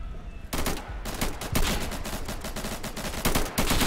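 Rapid gunfire in the tactical shooter game Insurgency, bursts of automatic shots cracking repeatedly and loudly after a brief quieter opening, with no talk over it.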